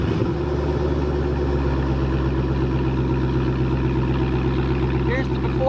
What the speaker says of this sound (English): I'm gonna give you guys the before clip of the warm start, and now here's an after